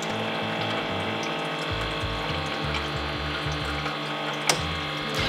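A Bartesian cocktail machine pumps water through its lines with a steady mechanical hum, pulsing in uneven cycles, and a brief click near the end.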